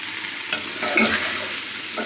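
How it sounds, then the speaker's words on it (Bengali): Basmati rice frying with sugar in a pan, giving a steady close sizzle with scraping stirs throughout, no voices. "চিনিটাও দিয়ে ভালো মতো ভেজে নিচ্ছি"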